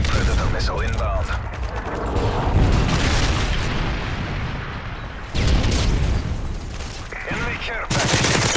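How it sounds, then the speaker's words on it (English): Missile strike detonating in Modern Warfare 3 multiplayer, a loud continuous barrage of booming blasts and rattling gunfire, with a sharp renewed burst of impacts near the end. "Friendly Predator missile inbound."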